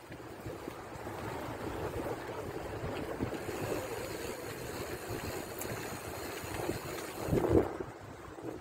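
A river runs beside the Endarlatza greenway toward Lesaka, giving a steady broadband rush with wind buffeting the microphone throughout and a brief louder swell near the end.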